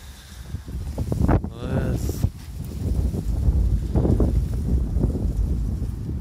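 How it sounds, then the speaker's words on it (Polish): Gusty wind buffets the microphone with rumbling bursts, and a voice speaks briefly near the start amid the blustery noise. "strasznie wieje."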